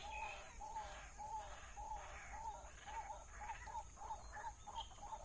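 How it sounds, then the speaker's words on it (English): Many birds call in a repeating, steady series beside a rice field at a rural house near San Patong, Chiang Mai, the chirps evenly spaced and fairly close over a constant background hum, with no talking. "With loads of bird activity."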